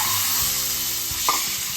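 Eggs frying in a pan for an egg curry, a steady broadband sizzle with soft stirring scrapes and a brief utensil clink partway through, close and continuous with no talking.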